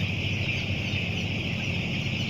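Young chickens at a poultry farm, a continuous chorus of many birds clucking and peeping close by.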